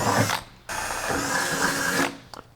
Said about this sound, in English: So, just doing some trash can drilling.